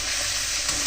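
Puris fry in hot oil, giving a steady, close hiss and sizzle with faint crackles for about a second, with no voices.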